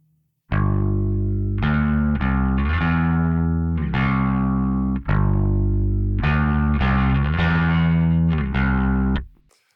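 Distorted rock electric guitar, a U67 microphone on the cabinet blended with a DI track, plays a steady chugging riff of sustained chords in two phrases, loud and upfront with no voices.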